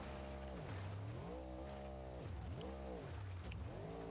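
Monster truck engine in BeamNG.drive revving up and down in repeated rising and falling sweeps, a steady droning pitch that climbs and dips about every second, moderately quiet with no talk.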